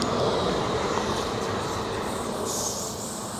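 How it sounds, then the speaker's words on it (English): A small train rumbles steadily past nearby, with a continuous rolling clatter and a faint high squeal toward the end. "Train coming."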